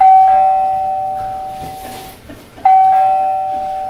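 A household doorbell rings loudly twice with clear electronic chimes, each tone sustained and decaying, the second ring coming after a short gap.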